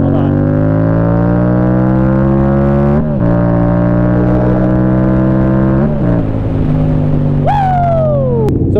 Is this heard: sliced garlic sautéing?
no